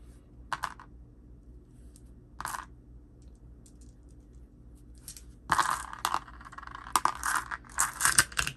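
Many dice rolled for a tabletop RPG attack in a solo session, heard as scattered rattling clatters, a few brief bursts followed by a denser, louder tumble of dice near the end, with no talk.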